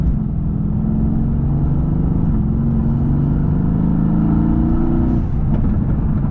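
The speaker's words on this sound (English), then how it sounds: "There goes the exhaust. You can definitely hear the crackles and the burbles and the pops." A Mercedes-AMG GT S engine with a stage 1 tune rumbles steadily and loudly in Sport Plus mode, with a low burbling exhaust note that shifts pitch partway through, then settles.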